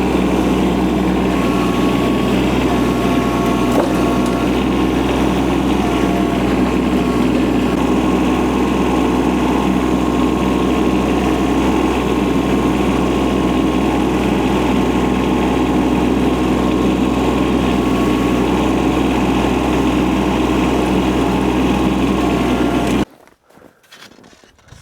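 A tractor engine runs steadily and loudly while lifting a roughly 48-foot log being processed into firewood, with a constant droning hum and no talk, before cutting off abruptly near the end.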